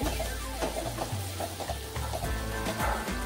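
Onion with turmeric and garam masala frying in a pan, a steady sizzle under rhythmic scraping as it's stirred, heard close up with no talking.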